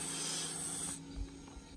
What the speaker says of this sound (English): I'll usually just put some degreaser in, spray all the casings with this.